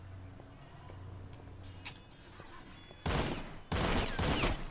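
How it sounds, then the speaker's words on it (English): Bursts of rapid gunfire in the game Painkiller: Hell and Damnation, two loud volleys near the end after quieter ambient hum and faint clicks. "Using the gunshots as a flashlight."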